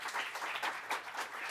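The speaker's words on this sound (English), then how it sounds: "Please give me a round of applause." An audience at a tech policy summit keynote and awards ceremony applauds in a dense, continuous wash of clapping, heard faintly and from a distance.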